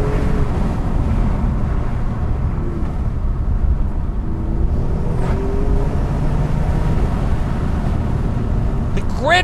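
An Alfa Romeo Giulia Quadrifoglio on the move, heard from inside as a constant, fairly loud low engine and road drone with no breaks, lasting the whole stretch.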